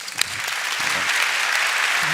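Audience applause after a Brian Greene and Richard Dawkins talk: dense, steady clapping from a large crowd, loud and close, swelling slightly and holding to the end.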